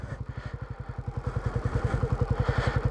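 A motorcycle rolls along with the rider completely off the throttle, its engine giving a steady rapid low thumping pulse at close range that slowly builds slightly louder, with no voices.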